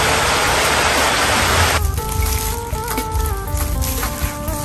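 Heavy rain falls outdoors as a dense, loud hiss that thins after a couple of seconds, leaving steady patter against a cooking area with a fire.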